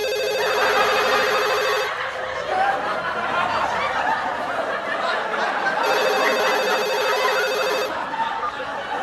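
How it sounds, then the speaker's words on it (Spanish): A telephone rings in two long electronic bursts separated by a pause, with muffled chatter and soft laughter in the background. "o suena el teléfono"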